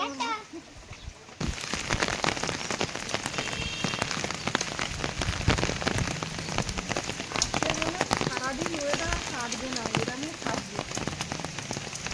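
Heavy rain on a stormy day pours steadily onto surfaces, dense and close, with a brief quieter start before the downpour swells. Voices talk now and then under the rain, and faint bird calls come through.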